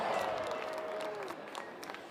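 Rodeo crowd cheering and applauding, a faint wash of clapping and crowd noise with a brief whistle-like tone near the start, lasting about two seconds.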